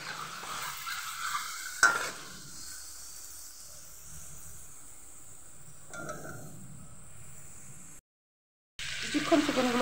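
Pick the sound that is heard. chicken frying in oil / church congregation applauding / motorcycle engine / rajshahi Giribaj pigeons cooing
chicken frying in oil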